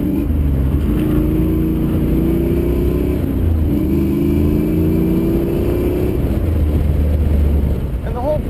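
A Chevrolet Camaro Z28 driven hard on twisty roads, its engine droning and rising in pitch through repeated pulls, loud and steady with road and wind noise, and a voice briefly speaking near the end.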